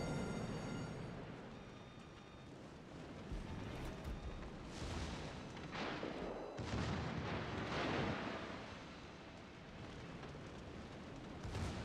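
Naval guns firing in a warship battle game, deep booming blasts that roll into long rumbling echoes over about twelve seconds, loud and dense.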